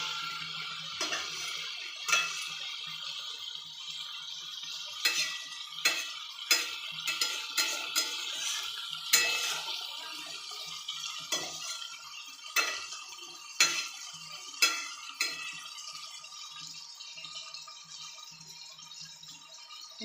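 Cucumber curry being stirred and sautéed in a pan, a spoon scraping and knocking against the metal in irregular bursts over a steady low sizzle, close and alone with no talk.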